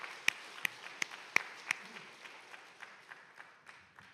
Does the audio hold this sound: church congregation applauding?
yes